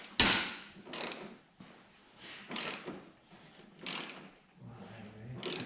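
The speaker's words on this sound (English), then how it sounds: "Let me get these seat bolts off." Rusty seat bolts being worked loose on a Yamaha Enticer motorcycle, with a series of close metallic ratcheting and clanking bursts spaced irregularly, fairly quiet and alone.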